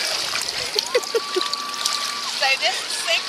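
Seawater splashes and trickles at a beach close by, with short watery spatters under overlapping voices and a whistling tone.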